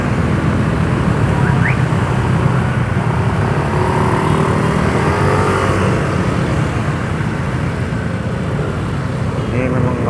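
Dense street traffic in Makassar, Indonesia at dusk: a steady, loud wash of car and motorcycle engines with continuous road rumble and no breaks, close to the roadside.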